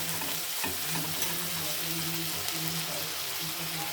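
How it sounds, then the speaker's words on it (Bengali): Rohu fish curry masala with ground coriander leaves cooks down in a pan, making a soft, continuous hiss with faint stirring scrapes throughout and no voices. "এবার এটা দিয়ে ভালো করে কষিয়ে নিচ্ছি।"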